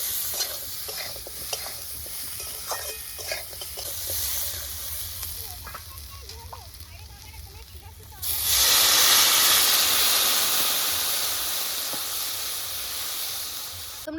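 Fish frying with slit green chillies, a stirred sizzle with occasional voice in the background, then water poured in at once, bursting into a loud, broad hiss of steam that slowly settles.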